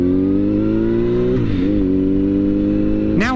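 A motorcycle revs hard up close as it accelerates, its engine note climbing steadily before it dips through a gear change into second and rises again, with a sharp rev near the end.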